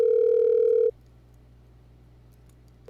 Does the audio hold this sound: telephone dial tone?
yes